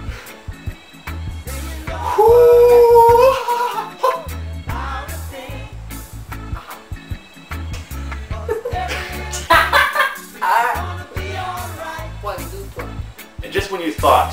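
A dog barks and lets out a drawn-out, wavering howl near the start, mixed with a steady rhythmic music bed and talking throughout.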